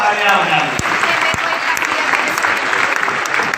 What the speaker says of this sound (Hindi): श्रीमान नरेंद्र मोदी जी के लिए जोरदार तालियां बजाएं